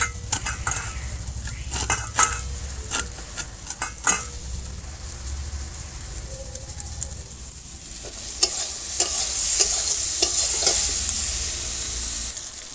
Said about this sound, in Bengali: বেগুনটা আমার ভাজা হয়ে গেছে